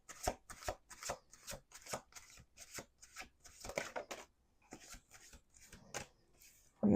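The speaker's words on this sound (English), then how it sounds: "Let's do 2 more shuffles." Someone shuffles a deck of tarot cards, a series of quick riffle bursts at a steady rhythm with brief pauses between them, close and fairly quiet with no talking.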